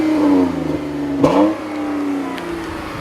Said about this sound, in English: I wasn't expecting this engine to sound so throaty, but it actually does sound pretty good.